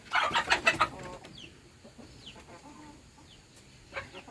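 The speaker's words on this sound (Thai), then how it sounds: "ไก่" Chickens cluck and squawk loudly at a Thai cattle farm, a busy burst of calls at first that settles into quieter scattered clucks and chirps.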